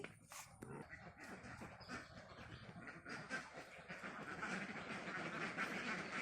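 A flock of ducks on a duck farm quacking in a noisy chorus, some calls loud and near, others overlapping in the background.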